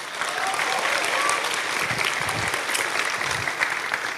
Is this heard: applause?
yes